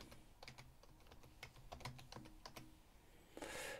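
Steady typing on a computer keyboard while entering a LaTeX document, with rapid close clicks in short runs, then a brief louder rustling burst at the end. No one speaks.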